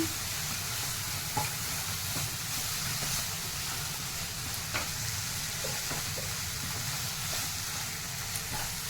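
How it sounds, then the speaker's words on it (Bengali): Chopped onion sizzles in a pan with tomato puree and fried spice paste for shimla mirch paneer, a steady, fairly quiet hiss with occasional light stirring clicks and no talking. "এবারে কাটা পেঁয়াজটা দিয়ে দিলাম।"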